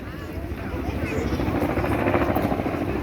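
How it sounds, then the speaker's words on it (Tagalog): A helicopter flies overhead near the Statue of Liberty in summer, its steady rotor thump and engine roar filling the scene loudly and continuously as people talk faintly underneath. "Tama, may helicopter, oh."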